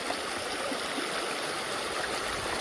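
A river runs in front of a campground, a steady broadband rush of flowing water that holds at an even level throughout, with no voices.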